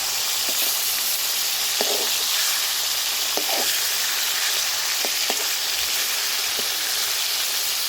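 Rohu fish pieces frying in hot oil, a dense continuous sizzle and hiss with a few sharp crackles and knocks as pieces are turned over, close and loud, no talking.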